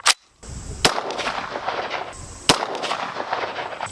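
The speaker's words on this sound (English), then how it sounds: "Let's go ahead and take our unsuppressed shots." Three unsuppressed gunshots from a 5.56 Jackal rifle with a 10.5-inch barrel, each a loud, sharp crack with a ringing outdoor tail. The shots come unevenly spaced across a few seconds, with no talking.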